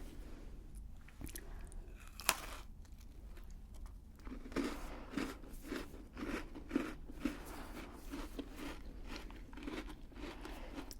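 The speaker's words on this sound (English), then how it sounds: "I'll come back to that after I've done the crunch and the texture" Chocolate-bottomed biscuit being bitten and chewed up close, a few sharp crunches followed by steady soft mastication with scattered crackles, quiet and without speech.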